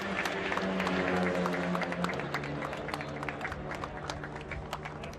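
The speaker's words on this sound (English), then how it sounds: "Let's hear another round of applause for our modified riders." Crowd applause at a national motorcycle championship race, a quiet, sustained patter of clapping heard from a distance with a faint engine drone underneath.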